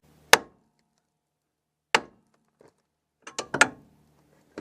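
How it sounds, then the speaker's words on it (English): A big hammer strikes the steering rod end on a Toyota during CV boot repair, giving sharp metallic clanks: two spaced single blows, then a quick cluster of three or four hits, close and clear. "using a big hammer, don't hit this"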